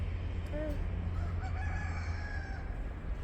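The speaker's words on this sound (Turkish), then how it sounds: "Horozlara yem mi veriyorsun sen?" Roosters crow outdoors at moderate distance, one short call early and a longer drawn-out crow midway, over a steady low rumble of background noise.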